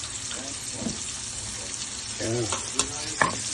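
Onions sauté in leftover frying oil in a pan, close and sizzling steadily with a few stirring scrapes and taps. Someone speaks briefly over the sizzle.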